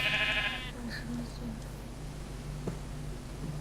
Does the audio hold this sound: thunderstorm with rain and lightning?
no